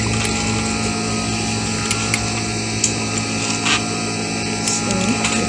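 A sewing machine stitches scalloped lace onto a dress sleeve, a continuous close mechanical whir with fast rhythmic needle ticking and occasional small clicks.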